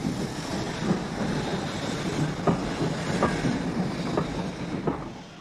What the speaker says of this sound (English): The ancient locomotive that was still based at St Boswell's for working the long branch to Berwick via Kelso was paired with a couple of elderly non-corridor carriages